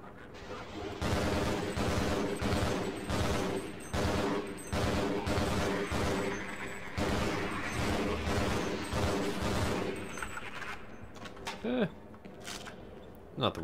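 Repeated bursts of gunfire from a weapon in the game Half-Life, loud and rhythmic over about ten seconds, shots tapering off near the end, with a voice talking faintly underneath.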